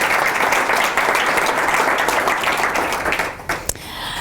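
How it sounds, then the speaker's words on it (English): Sustained, dense applause from a seated crowd at a community foundation grant ceremony honoring a distribution committee, loud and even for about three and a half seconds before tapering off. "could we please give a round of applause to Steve and his distribution committee"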